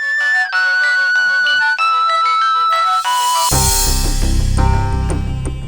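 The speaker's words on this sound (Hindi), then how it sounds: "फोन आया।" A phone ringtone plays a bright electronic melody that repeats in short phrases, then swells into a fuller, louder musical section, with no voices over it.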